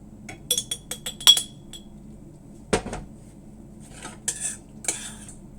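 An ordinary metal spoon clinks against a bowl of pizza sauce in a home kitchen, a scatter of bright taps and clinks in quick bursts, close and clear, separated by short quiet gaps.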